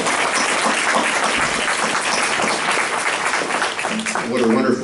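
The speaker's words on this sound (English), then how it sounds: "So a round of applause for those folks." Audience applause at a chamber of commerce chocolate evening, honoring a music trio; steady, dense clapping throughout, with a faint voice beginning near the end.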